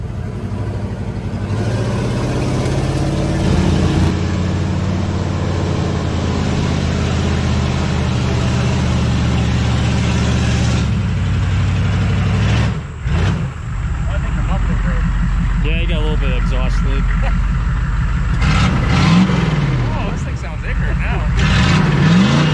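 Humvee engine straining up a big hill off-road, a loud, close, sustained drone with shifting pitch and revving swells, a person talking over it at times.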